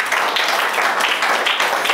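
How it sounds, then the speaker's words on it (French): A church congregation applauding for the Lord, with steady, dense clapping from many people that holds evenly loud for a couple of seconds. "Acclamation pour le Seigneur."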